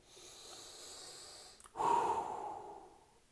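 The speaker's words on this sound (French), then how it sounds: "Prenez une grande bouchée de respiration et soufflez, tout simplement." A single deep breath in, a brief pause, then a strong audible exhale that trails off, close and clear, as a calm stress-relief exercise.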